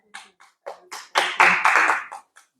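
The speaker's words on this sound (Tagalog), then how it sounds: "Palakpak." A church congregation at a meeting clapping in scattered bursts that swell into a short, dense round of applause near the middle, then taper off into a few last claps.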